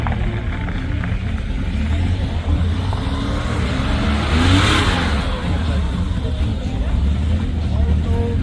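A Bentley car at an ice race event in Zell am See revs its engine, a continuous loud roar that swells and peaks midway before settling, with people talking in the background.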